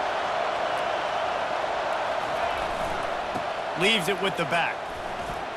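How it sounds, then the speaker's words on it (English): A stadium crowd roars steadily at a game in EA Sports College Football 25. The dense, constant roar fills the background while a commentator speaks briefly over it. "The roar of the crowd trying to fuel this defense to keep them pinned in their own end."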